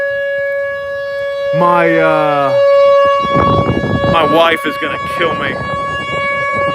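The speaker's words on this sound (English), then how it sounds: "this is for sure sending sirens off where they're at" Tornado warning sirens wail steadily in the distance during a spinning storm, a sustained tone running beneath a man's close, excited talk.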